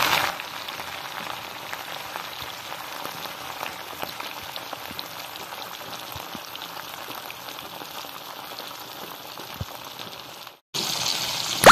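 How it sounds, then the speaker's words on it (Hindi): Fish frying in ghee in a kadhai gives a steady, dense crackle and hiss throughout, with fine popping and no voices. The sizzle drops out briefly near the end, then returns louder. "सबसे पहले जी मछली को कर लेंगे फ्राई"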